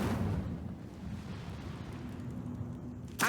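A fire spell bursts in Hogwarts Legacy, a low rumbling whoosh of flame that swells at the start, eases into a sustained roar, and ends in a sharp bright crackle, with no voices.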